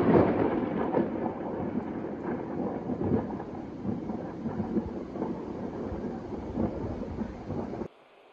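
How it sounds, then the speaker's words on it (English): Loud thunder from a passing storm rolls on for several seconds, a deep continuous rumble with rain underneath, recorded indoors yet sounding almost as if outside, then cutting off abruptly near the end. "the thunder was ridiculously loud"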